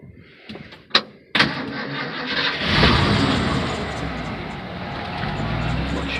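A few clicks and clunks, then the engine of a 1947 Ford F1 rat rod truck cranks and catches, rising into a loud, steady rumbling idle close by.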